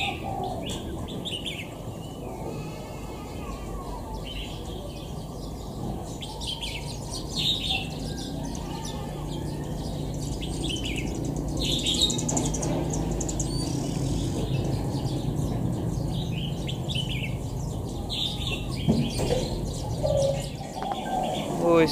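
A freshly trapped wild jungle fowl from the northwest Vietnamese highlands calls weakly, giving faint, scattered chirping notes over steady outdoor background noise throughout.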